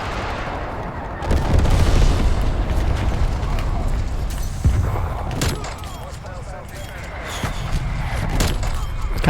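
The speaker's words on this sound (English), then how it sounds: "God damn it, with the airstrikes!" Repeated heavy airstrike explosions and booming blasts in a shooter video game, loud and rumbling with scattered gunfire, continuing throughout with a voice talking over the battle.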